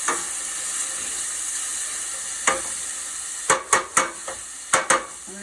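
Garlic sizzles steadily in a hot frying pan with a constant bright hiss, broken by several quick clacks of a utensil stirring it.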